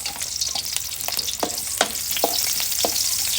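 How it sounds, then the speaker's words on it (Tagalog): Garlic sautéing in a hot pan for a chicken tinola-style dish, a loud continuous sizzle broken by several sharp stirring scrapes, close up with no voices. "igigisa po natin ang bawang"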